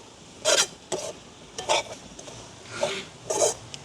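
Drumstick curry being stirred in a pan, five or six distinct scraping strokes of a spoon against the metal, close and fairly loud, with a faint sizzle underneath.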